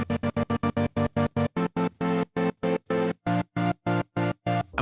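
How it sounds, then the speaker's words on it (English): An auto pan stutter on a sustained synth in Ableton Live, first pulsing fast, then slowing to a wider, slower chop partway through, each pulse clean and evenly spaced with no talking. "We can of course change the rate of this stutter by changing the rate of the auto pan"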